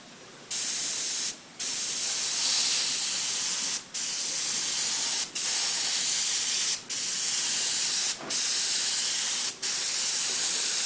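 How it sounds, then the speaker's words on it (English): Airbrush spraying a very light value of paint across a graduated rectangle: a loud, steady hiss broken into long passes by about six brief pauses, with no talk. "I'm spraying a very, very light value over the entire thing."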